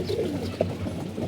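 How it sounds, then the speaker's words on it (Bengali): Pigeons cooing softly while they feed, several low throaty coos close by over faint background noise. "আমাদের কবুতর গুলা খাইতেছে।"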